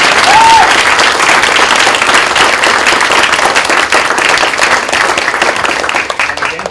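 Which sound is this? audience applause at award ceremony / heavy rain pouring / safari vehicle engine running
audience applause at award ceremony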